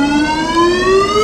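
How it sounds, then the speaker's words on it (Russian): Shopping centre alarm siren warning system sounding throughout the building, a loud continuous rising electronic wail with strong steady harmonics, close and alone with no speech. "сейчас идет система оповещения в торговом центре. Теперь сирена действительно слышна во всем здании."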